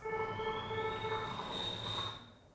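A synthetic medical alarm sound icon imitates a tea kettle, a faint whistling tone gliding slowly upward over a noisy, rumbling background, fading out at the end.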